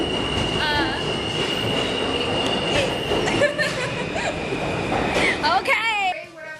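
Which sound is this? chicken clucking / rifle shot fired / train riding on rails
train riding on rails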